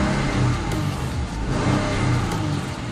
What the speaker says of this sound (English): Let's give it quite a nice little rev,